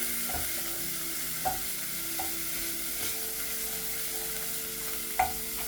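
Garlic fries quietly in a pan under a steady low hiss, while a utensil stirs it with scattered soft scrapes and taps, including one clearer knock near the end, with no voices.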